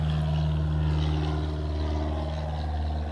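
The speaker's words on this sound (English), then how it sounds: "And I actually hear someone flying today." A small propeller aircraft drones overhead, a steady loud hum with a strong low tone holding through the whole stretch, and no voices are heard.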